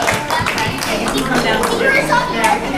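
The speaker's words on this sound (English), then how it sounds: "let's give my friends up here who volunteered to help us a big round of applause" A crowd of children at a financial literacy presentation claps steadily for volunteers, a dense wash of applause with chatter and children's voices mixed in throughout.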